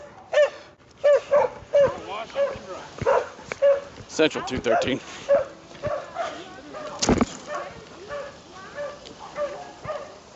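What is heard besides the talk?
police drug-sniffing dog barking during a car search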